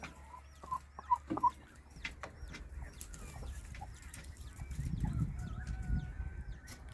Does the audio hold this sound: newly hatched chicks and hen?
yes